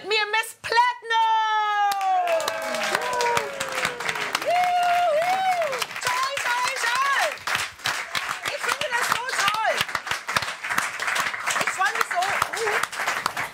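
Studio audience applause and cheering greet singer Miss Platnum on the German late-night talk show Inas Nacht, a sustained dense crowd clapping that rises after an opening musical flourish and continues loudly throughout.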